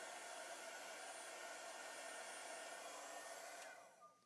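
A heat tool blows hot air steadily over Pentart fineline crackle medium, a constant close whooshing hiss that cuts off near the end.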